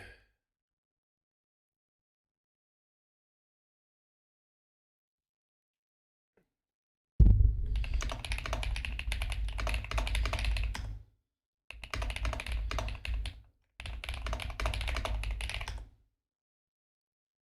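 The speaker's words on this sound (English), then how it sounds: "my loud ass keyboard" Loud computer keyboard typing in three bursts, a long run of rapid clacking followed by two shorter flurries separated by brief pauses, close and prominent after several seconds of silence.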